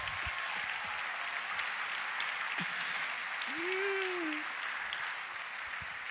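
A church congregation applauds and acclaims God with a dense, steady wash of clapping that lasts the whole time. A voice rises briefly over it partway through.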